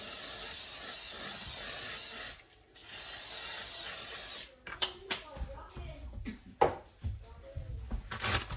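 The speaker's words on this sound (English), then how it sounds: "You're gonna take some spray or use a liner" A long steady hiss of cooking spray sprayed into a crock pot, briefly interrupted, then stopping; afterward scattered clicks and handling noises with soft voices nearby.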